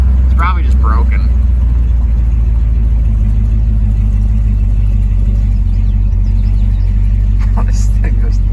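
A 1968 Pontiac Tempest engine putters steadily from inside the moving car, a loud, constant low rumble with people talking over it.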